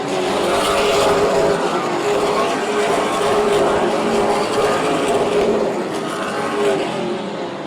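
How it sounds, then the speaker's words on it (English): Pack of super late model race cars roaring around the Oyster Bed short track during a 150-lap series event, engines droning loud and continuous as a tight bunch jostles for position, with faint crowd and commentary bleeding underneath. "Big gaggle of cars trying to get around the 97 of Chris Duncan"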